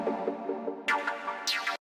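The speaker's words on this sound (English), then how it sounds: "The third dub synth sounds like this." A dub-style synth preset built in Serum for a groovy trance track, its midrange boosted around 2.6 kHz, plays a few rhythmic chord stabs and swells with bright, airy attacks near the end, alone and close.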